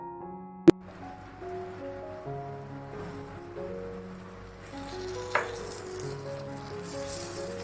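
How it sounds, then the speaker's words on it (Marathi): Stuffed green chillies shallow fry in oil on a flat pan over a low flame, a soft, continuous sizzle partly masked by background music, with a sharp clink near the start. "स्लो फ्लेमवरती आपल्याला चांगल्या पद्धतीने शॅलो फ्राय करून घ्यायचं आहे."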